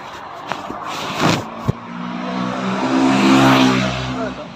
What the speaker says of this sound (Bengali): বাইক গেল